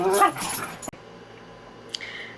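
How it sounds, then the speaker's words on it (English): Dogs playing indoors in the background give brief yips and whimpers, muffled and moderately quiet, with a sharp thump partway through and quieter stretches after. "Can you hear the dogs playing?"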